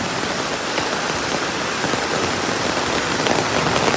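Steady rain falls in a dense, even hiss that stays constant from start to end, with no voices and no other sounds rising above it.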